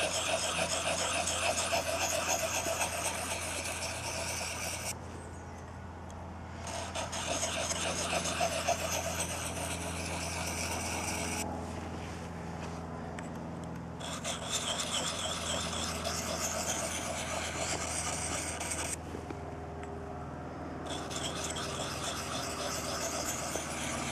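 A blade is sharpened with repeated rasping strokes in long steady bouts, separated by short pauses, loud and close over a low background hum.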